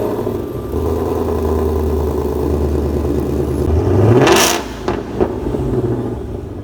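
A fast car accelerates with a steady, loud engine roar that swells to a brief peak and then drops off, followed by a couple of sharp whooshing bursts.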